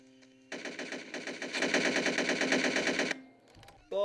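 Rapid automatic gunfire in the Hitman video game, a sustained burst of shots for about two and a half seconds, loud and close with an echoing tail, ending abruptly before another sound starts.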